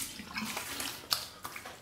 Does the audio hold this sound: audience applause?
no